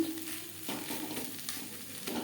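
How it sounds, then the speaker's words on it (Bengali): Chopped banana flower is stirred with spices in a hot pan for a vegetarian mochar chop filling, giving a steady soft sizzle with light scraping strokes, close and on its own. "মোচা নাড়াচাড়া করে নেওয়ার পর দিয়ে দেব ছোট এক চামচ ভাজা মশলা"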